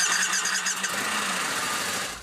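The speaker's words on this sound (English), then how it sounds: "People talk about the sound of our bikes." A Harley-Davidson V-Rod motorcycle engine cranks and catches, a whirring starter squeal blending into a rising, steady engine roar, close and loud, with no voices.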